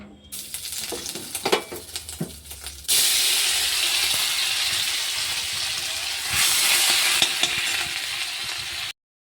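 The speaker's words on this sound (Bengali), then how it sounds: "কড়াতে ওই তেলের মধ্যে একটু তেজপাতা ফোড়ন দিয়ে দিলাম, দিয়ে আর এই আদা আর জিরে বাটাটা এর মধ্যে দিয়ে দেব।" Ginger and cumin paste hits hot oil with a bay leaf in a wok, giving a steady close sizzling hiss that swells loudly partway through, with scattered stirring scrapes earlier.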